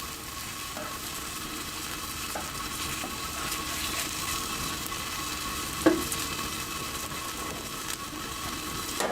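Spanish-style burgers and jamón sizzle on a Blackstone griddle, a steady close frying hiss with a few faint scrapes and a brief clink.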